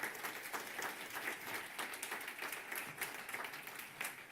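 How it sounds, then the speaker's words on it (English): At an AI conference, the audience gives a faint, distant round of applause for speaker Tanja Lee, a steady patter of many hands clapping without voices over it. "Please, another big round of applause for Tanja."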